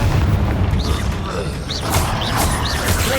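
Expelliarmus disarming spell from Hogwarts Legacy: loud magical whooshes and rising chirps over a dense, rumbling battle bed, with mechanical creaks and a couple of sharp pops spread across a few seconds.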